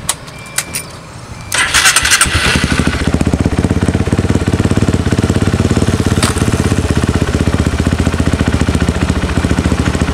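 After a short clatter, a motorcycle engine tuned with a Juken 5 remote ECU starts and settles into a loud, steady, close idle with an even, rapid pulse that holds to the end.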